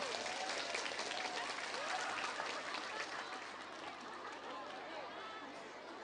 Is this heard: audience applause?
yes